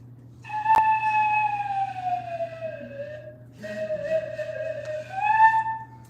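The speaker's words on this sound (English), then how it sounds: "Now a slide whistle." A slide whistle glides downward in pitch, pauses briefly, then slides down and back up again, loud and close over a steady low hum.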